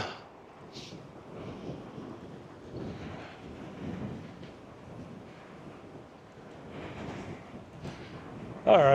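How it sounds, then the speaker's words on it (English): Wind buffets the microphone during an e-bike ride around Albuquerque, a steady low rumbling roar that runs through the whole stretch and surges louder at the very end. "it's a little more windier up here than down there in the valley"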